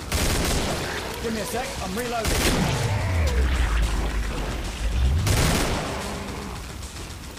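Rapid gunfire from hip shooting in the video game Killing Floor, loud bursts with deep booming sweeps, running continuously under a player's talk.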